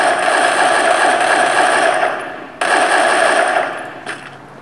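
AK rifle fire in a mobile shooter video game comes as loud, rapid automatic bursts, one long continuous stream that breaks off briefly and then resumes, with no talking over it.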